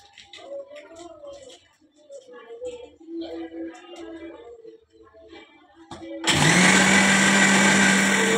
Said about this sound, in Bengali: এবার কাজু, জিরে আর কি দিয়েছি, আদা আর গোলমরিচ আর পেস্ট করে নিচ্ছি